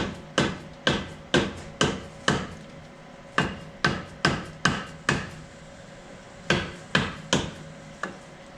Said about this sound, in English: Just kind of pop it with a soft hammer a little bit until it loosens up.